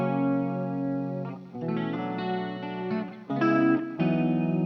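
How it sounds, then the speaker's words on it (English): Electric guitar from a silent home rig, run through a vibrato effect blended with the dry signal to give a shimmering chorus-like wobble; sustained distorted chords shift through several changes, close and loud with no voice. "it sounds like a chorus."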